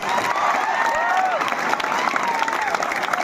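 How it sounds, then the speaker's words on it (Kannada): An audience at a college student festival breaks into loud, dense applause with some crowd noise, sustained close-up clapping for a few seconds. "ಸ್ಪಂದನ ವಿದ್ಯಾವರ್ಧಕ ಸಂಸ್ಥೆಗೆ ಒಂದು ಜೋರಾಗಿ ಚಪ್ಪಾಳೆ ಕೊಡಬೇಕು"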